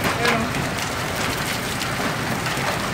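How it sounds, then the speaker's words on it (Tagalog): Hail pours down in a hailstorm in Qaisumah, Hafar Al-Batin, as a dense, constant clatter of ice pellets that fills the whole stretch at close range. "Mula ng yelo."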